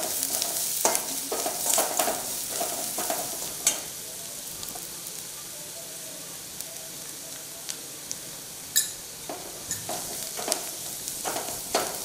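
Onions and idli podi sauté in oil in a pan, a soft continuous sizzle broken by scraping stirs and occasional clinks of a spoon, with someone speaking quietly over the cooking.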